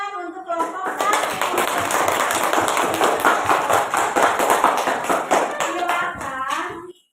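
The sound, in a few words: applause for group 1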